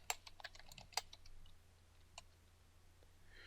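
Quiet clicks of typing on a computer keyboard, a quick cluster of keystrokes followed by a few sparse taps, faint and close in a still room.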